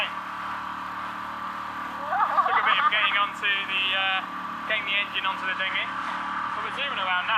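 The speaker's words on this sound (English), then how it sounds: "the engine's a bit loud in the background" A dinghy's outboard engine drones steadily on the water through the whole stretch, rising slightly as it gets going. A voice talks over the engine noise.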